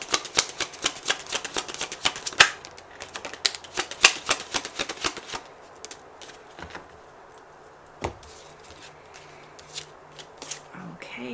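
Message cards are shuffled by hand for a pick-a-card love reading: brisk riffling and snapping bursts for about five seconds, then a few scattered taps and soft handling sounds in a quiet room.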